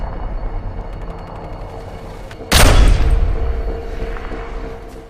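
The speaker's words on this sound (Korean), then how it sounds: "황폐해진 녹색의 땅에서 맥스는 저격을 시도합니다." A loud sniper rifle shot from the Mad Max film bursts out midway, a single heavy blast that rolls off in a long booming tail over a low ambient rumble.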